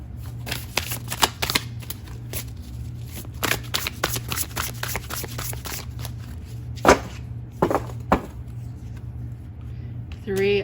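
A deck of tarot cards is shuffled in bursts of quick riffling snaps and slaps, with a few louder card flicks near the end over a steady low hum, close up.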